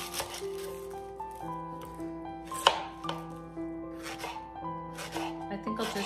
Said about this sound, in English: cutting up my veggies